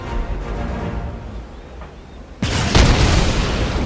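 In MTG Arena, the Soul Sear spell opens with a quiet magical hum, then hits with a sudden loud booming burst that rolls on as a crackling, roaring blast.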